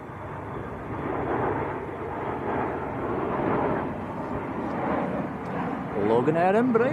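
A Loganair Embraer airliner at a windy Manchester Airport gives off a steady broad engine roar mixed with wind buffeting, with a voice speaking near the end.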